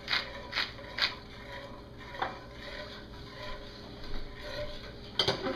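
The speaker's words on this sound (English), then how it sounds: "stir in 1/2 teaspoon of thyme and a few grinds of coarse black pepper" A pepper grinder cracks coarse black pepper in a kitchen with a few short, dry ratcheting grinds, close and fairly quiet, separated by pauses and ending in a final crunchy twist.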